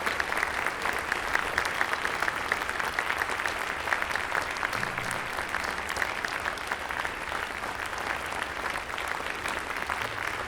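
Steady, sustained audience applause fills a concert hall at a fall school concert, a dense even wash of many hands clapping throughout with no pause.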